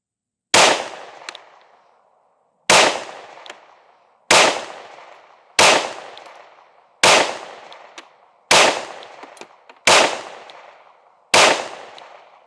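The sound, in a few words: Sig Fuse pistol firing several rounds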